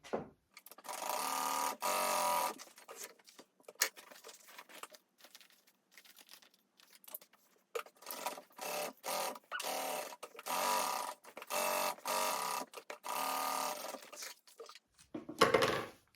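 Sewing machine stitching slip pocket pieces for a Roly Poly bag lining, running in repeated bursts of a few seconds each with short pauses and soft fabric handling between them, close and moderately loud.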